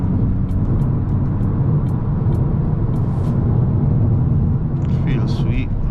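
Car driving in sport mode on a road in Mexico, a loud, continuous low engine and road rumble filling the cabin, with a faint squeal near the end.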